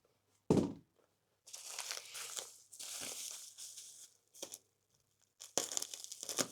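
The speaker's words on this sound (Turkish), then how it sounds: "Şunu zarar vermeden poşetini açalım." Plastic wrapping on a delivered package of car parts for a VW Golf 7 being torn and crinkled open, with a sharp rip followed by several bursts of close, loud crackling and rustling separated by short pauses.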